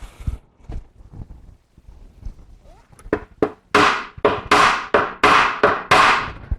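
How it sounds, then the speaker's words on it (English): A hammer taps glued wooden dowels into holes in a Pearl Export drum shell, a quiet scrape and a few soft knocks giving way to a steady run of sharp, loud, close strikes about twice a second. "And tap them in with a hammer."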